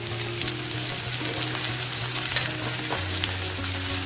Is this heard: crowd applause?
no